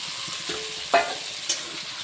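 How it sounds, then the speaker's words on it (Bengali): Spice paste for a pabda fish curry sautéing in a pan, a gentle continuous sizzle broken by a couple of brief spoon scrapes and clinks against the metal. "এখন মশলাটাকে ভালো করে কষিয়ে নেব।"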